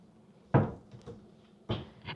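A kitchen cabinet holding a garbage bin is pulled open, giving a sharp wooden knock and slide, a smaller click, then a second bang and rattle, close and distinct in a quiet room.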